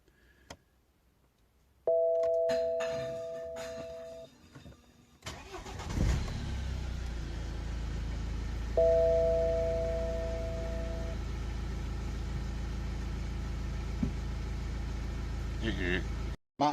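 An 18-year-old BMW E93 convertible cranks and fires after its key is turned, preceded by two steady electronic warning chimes, then settles into a loud, even idle with another chime over the running engine.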